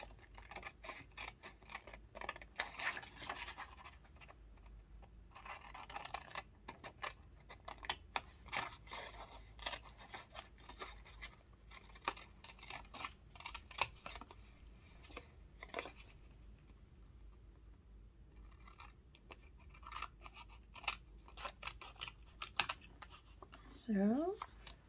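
Scissors snip through a paper envelope with pockets in a papercraft project, producing repeated soft crisp cuts and crinkles at close range, with brief quiet gaps between strokes.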